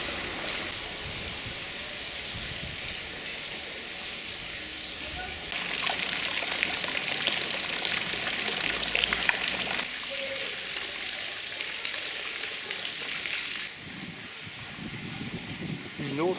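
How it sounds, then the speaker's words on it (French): Village fountain in Saint-Zacharie, Provence, with water splashing and pouring in a steady hiss that grows louder midway then eases, while people talk faintly in the background. "Une autre fontaine de Saint-Zacharie."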